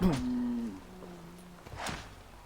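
A cow in the video game Assassin's Creed Valhalla lets out a single low, drawn-out moo up close, followed by quieter game sounds.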